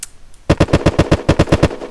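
An assault rifle fires in the video game Unturned, a quick burst of about eleven loud, sharp shots in rapid even succession after a brief quiet start.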